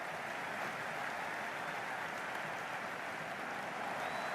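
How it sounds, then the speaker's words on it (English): A steady, dense roar of a large stadium crowd cheering and clapping in the cricket video game Cricket 26, constant and loud throughout with no voices standing out. "all these spectators here today are completely enthralled and energised, judging by that noise anyway"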